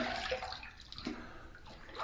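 An amber Aerolite shaving brush is rinsed under running water, producing a steady, close splashing wash with brief gurgles, alone for about two seconds without any voice.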